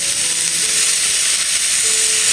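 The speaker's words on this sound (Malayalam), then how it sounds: "ഈ സവാള നന്നായിട്ടൊന്ന് വഴറ്റിയെടുക്കാം" Onions sautéing in a pan for a Malayalam home-style dish, a loud, steady close-up sizzle and hiss with no breaks and no talking.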